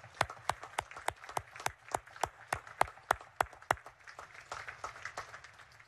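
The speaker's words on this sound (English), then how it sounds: "How about a hand of applause for your parents and your families?" Sparse, distinct hand claps at a Naval Academy graduation, a dozen or so sharp claps in an uneven rhythm, fairly faint and distant, with no talk over them.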